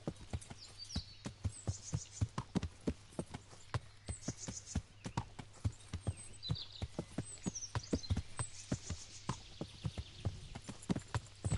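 A horse canters across the Bohemian countryside in Kingdom Come: Deliverance, its hooves striking in a quick, steady, repeating clip-clop rhythm, close and clear over light ambient outdoor sound.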